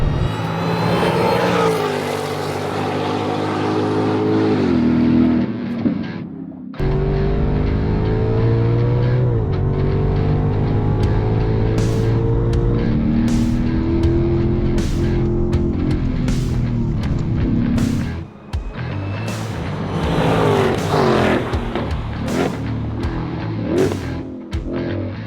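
A 2025 Ford Mustang GTD is driven hard on a racetrack, its engine roaring loudly and close, revving and shifting with rising and falling pitch and brief drops between gears, with no talking.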